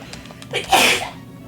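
A single sharp human sneeze, close and loud, standing alone against a quiet background.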